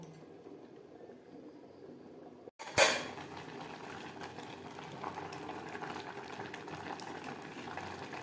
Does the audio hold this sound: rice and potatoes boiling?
yes